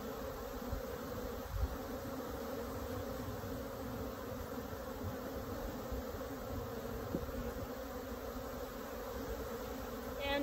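Honey bees droning steadily around a hive frame during a colony split, a dense continuous buzz from many bees close by, even in level throughout with no talk.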